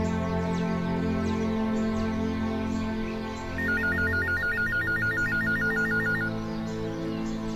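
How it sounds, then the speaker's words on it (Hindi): An incoming call sets a telephone ringing with a bright, rapidly pulsing electronic ringtone that lasts a few seconds over a steady, tonal indoor background, with no voices. "आ गया मेरी बच्ची का फोन,"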